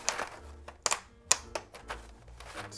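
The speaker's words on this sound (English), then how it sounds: "We're about to do another typing test." Keys of an all-brass Think6.5 mechanical keyboard clatter in quick, uneven bursts of sharp clicks, close and fairly quiet, with brief pauses between flurries.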